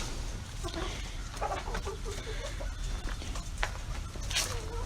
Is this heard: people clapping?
no